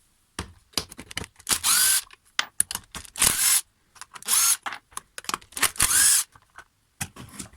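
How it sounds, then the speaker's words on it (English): A cordless driver with a T27 bit whirs in short repeated bursts while backing out the three screws on the recoil cover of a Stihl FS 94 trimmer, each burst close and loud with quiet gaps between. "T27, 3 screws here to undo."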